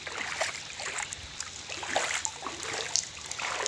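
Rain falling in drops amid flooded surroundings, with water everywhere on the road; a steady wash of dripping and splashing with scattered louder drops, continuous and fairly close.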